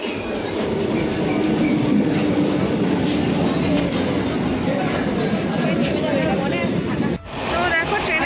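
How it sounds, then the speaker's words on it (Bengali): Steady, loud rumble of a train running on rails fills the whole stretch, with rattling wagon noise, a brief dip near the end, and no clear talk over it. "তো দেখো ট্রেনে করে একটা জায়গায় যাচ্ছি"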